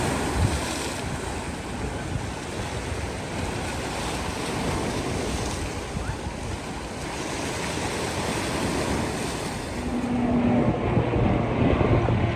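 Steady waves breaking along the Lake Ontario shore near Trillium Park in Toronto, a continuous loud wash of surf with wind buffeting the microphone, no voices.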